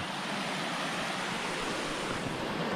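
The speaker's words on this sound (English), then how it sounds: "Here's where the brook goes under the road." Steady broadband rush of a brook flowing through a culvert under a road at North-South Lake campground in the Catskills, continuous and fairly loud, with no voices.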